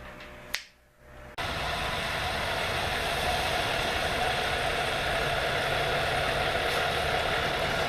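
A delivery truck bringing a Uline delivery arrives outside, its engine a steady, loud idling rumble that starts abruptly after a brief quiet moment and holds through to the end with no talking.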